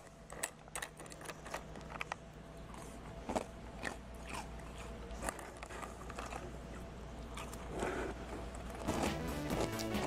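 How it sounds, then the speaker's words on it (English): Someone eating cereal up close, with repeated crisp crunches and chewing in an irregular rhythm over a low steady background hum. "Going back to cereal eating"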